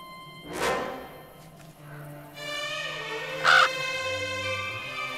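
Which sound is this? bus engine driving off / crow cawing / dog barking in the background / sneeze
crow cawing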